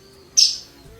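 A single short, high chirp from sparrow chicks in a nest indoors, close and clear over a quiet room hum.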